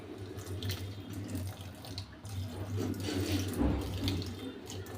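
Water runs from a tap into a kitchen sink basin as a cup is filled, a steady close splashing stream with a low rumbling undertone lasting throughout, no talking.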